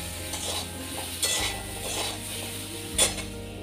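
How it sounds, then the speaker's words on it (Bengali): Eggplant slices frying in a pan for a home-cooked meal, a low steady sizzle with soft stirring and a couple of sharp metallic clinks of utensil against pan, no voices. "বেগুনগুলো আগে ভেজে নিচ্ছি, বেশ লাল করে ভেজে নেবো।"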